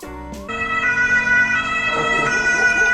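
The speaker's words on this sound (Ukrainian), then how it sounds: "Швидка летить, воно бачите" An ambulance siren wails loudly with steady rising and falling tones, close by, after a brief rumble at the start, in Geldersheim, Germany.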